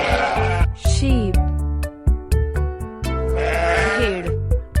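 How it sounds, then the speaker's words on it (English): A sheep bleats loudly and close, with two wavering, drawn-out calls separated by a stretch of lower, steady tones. "sheep"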